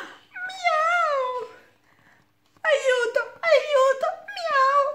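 A voice imitates a cat's meow in an Italian children's story reading, one long wavering meow, a pause, then three more drawn-out meows close to the microphone.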